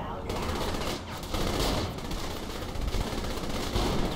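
Automatic weapon fire in the video game Saints Row: The Third, dense sustained bursts of shots filling the whole stretch with a steady roar, loud and continuous with game noise mixed in.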